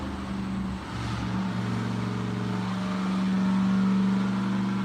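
Supercharged 3800 engine making a dyno pull, a steady droning hum with a rising tone that builds in loudness over several seconds, heard in the background and somewhat distant.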